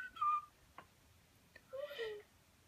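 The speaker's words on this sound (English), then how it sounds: "I looked to the left and whistled." Someone whistles in a narrated children's story: two short, clear whistled notes, the second sliding downward, separated by a pause with a faint tick between them.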